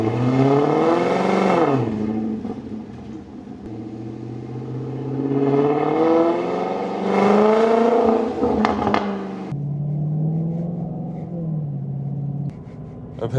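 A Maserati Quattroporte M139 driving after a jump start, its engine rising and falling through a few acceleration pulls with a steady cabin rumble between, heard from inside without talk.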